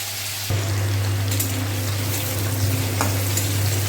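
Potatoes fry in oil previously used for paneer, giving a steady, loud crackling sizzle that begins abruptly and continues evenly throughout with no voices.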